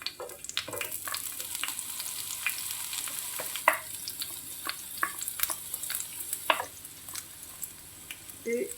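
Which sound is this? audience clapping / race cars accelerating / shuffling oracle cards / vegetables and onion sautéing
vegetables and onion sautéing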